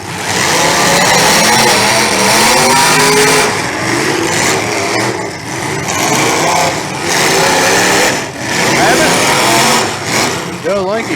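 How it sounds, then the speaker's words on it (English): Race car engines scream on the throttle at a dirt track, a loud high-pitched roar rising and falling as cars pass, with an announcer talking over the noise. "Jacob Lee on the throttle"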